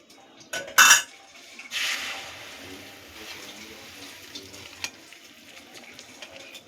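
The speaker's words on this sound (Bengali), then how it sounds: "এবার দিয়ে দিচ্ছি গরম জল।" Hot water is poured into a pot of mung dal: a few sharp metal clinks of a utensil, then a brief splashing pour followed by soft, quiet stirring sounds close by.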